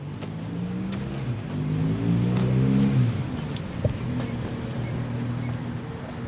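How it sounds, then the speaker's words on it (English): A 1968 Vietnam-era 6x6 diesel cargo and troop truck runs with a steady, low, throbbing engine rumble that rises slightly in the middle, outdoors with faint wind. "I've got a 1968 Vietnam era 6x6 cargo and troop truck. It's got a diesel engine, 6-wheel drive."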